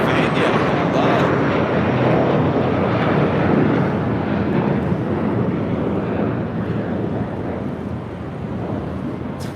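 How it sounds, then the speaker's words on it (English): A new Spirit Airlines Airbus A320neo arriving at LAX, heard as a loud, steady broadband jet roar mixed with wind buffeting on the microphone, fading slightly toward the end. "That is Spirit Airlines like 1829 coming in from Atlanta, Georgia, and a brand new A320neo."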